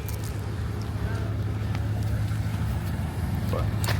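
A BMW M550i engine runs with a steady, deep low rumble that holds constant throughout, with faint voices in the background.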